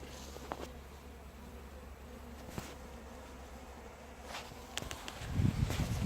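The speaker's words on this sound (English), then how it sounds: "I've got one of the hives. I bet you the light's terrible still, but you can hear them." Honey bees buzz steadily around a garden beehive, a close continuous drone with a few louder passes near the end and occasional faint outdoor clicks.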